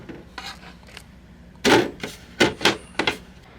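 A plastic side cover on a PS5 console is pressed back into place, giving a quick series of sharp close clicks and snaps, one louder crack followed by several lighter ones, with no talking.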